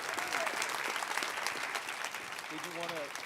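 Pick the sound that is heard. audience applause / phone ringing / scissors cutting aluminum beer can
audience applause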